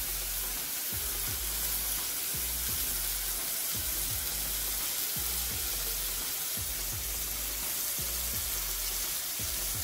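Garlic and ginger paste sizzles with tomato in a pan, giving a steady close hiss broken by soft rhythmic scraping or stirring thumps every second or so, with no voices.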